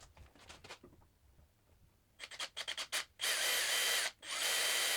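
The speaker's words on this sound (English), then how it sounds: "let's start by drilling the pilot holes for the bigger holes" Short bursts of a power drill with a dull bit boring pilot holes into a wood board, first stuttering in quick pulses, then two longer sustained runs with a brief pause between.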